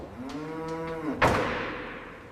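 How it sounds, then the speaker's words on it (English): Angus cattle in chutes, one animal giving a long, drawn-out moo close by, followed by a sharp metallic clang or bang that rings and slowly fades. "Cattle move in single-file lines"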